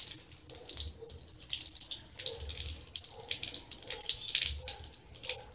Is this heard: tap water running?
yes